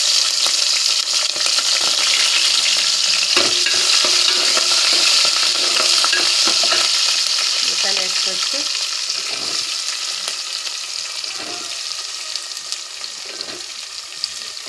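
Green chillies fry in hot oil in a pan for an onion and tomato curry, with a loud, dense sizzle that slowly eases off. Scattered scraping knocks of a stirring spoon are heard throughout.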